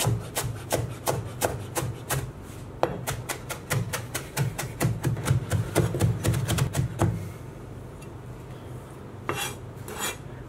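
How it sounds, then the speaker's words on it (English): Fresh parsley is finely chopped with a knife on a board in quick, regular close taps, followed by a pause and a few final chops. "I've just brought across about half a handful of fresh parsley. We just want to finely chop this."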